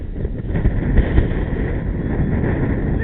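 Gusty wind buffets the microphone at a model plane flying field, a steady low roar with brief stronger gusts, no voices heard.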